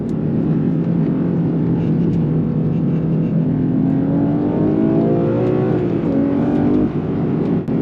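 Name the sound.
Porsche 911 Turbo S engine accelerating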